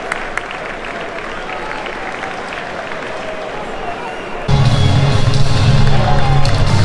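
Football crowd clapping at a Stockholm derby between Djurgården and Hammarby, a steady wash of applause across a large stadium that suddenly swells louder and fuller with a deep low roar partway through.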